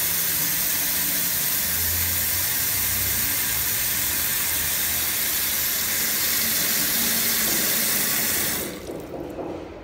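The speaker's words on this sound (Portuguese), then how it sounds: "Ou simplesmente abre a torneira e vê como que vai dar." Water gushes loudly and steadily from an opened tap into the drain of an apartment being inspected, a continuous close rush that cuts off abruptly near the end, leaving faint residual trickling.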